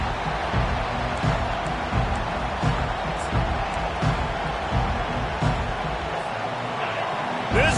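A stadium crowd at a college football game between Oregon and USC roars in a broad, sustained wash of cheering and noise that holds steady for several seconds, loud and continuous throughout.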